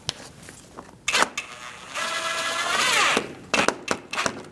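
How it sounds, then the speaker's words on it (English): A power drill whirs for about a second while driving a screw into the front engine splash shield of a 2016-2019 Chevrolet Cruze, framed by clicks and plastic handling knocks close by. "Now we're going to put our screws in."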